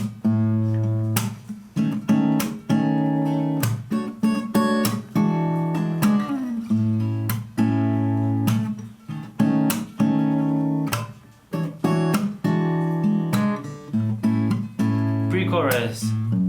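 An acoustic-style guitar plays a song with close, loud strummed and picked chords in a steady rhythm, broken by short gaps and quick muted strokes, with no talking.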